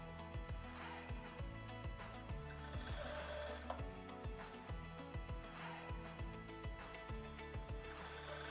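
A sewing machine stitching plus-size boxer briefs runs in quick, regular mechanical bursts with repeating needle thumps, steady and fairly close throughout, with no talking.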